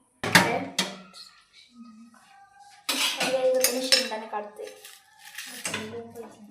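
Roasted peanuts scooped from a hot pan onto a plate, heard as a few loud metallic clinks and scrapes in quick bursts, with quieter clatter between them.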